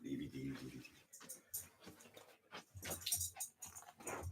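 A dog whimpers and growls in short, close bursts while people talk over it, urging it into a bedroom.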